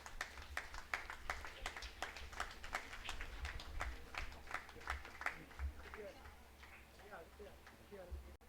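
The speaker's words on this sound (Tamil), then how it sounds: "உங்களுடைய பலத்த கைத்தட்டல்களுக்கு மத்தியிலே" Audience applause at a Tamil book launch event, distinct individual claps ringing out at a fairly regular rhythm, moderately close, with a low hum beneath and murmuring voices as it thins toward the end.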